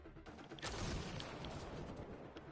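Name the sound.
gunfire in Mass Effect Andromeda video game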